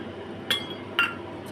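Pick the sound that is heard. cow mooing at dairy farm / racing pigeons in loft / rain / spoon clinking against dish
spoon clinking against dish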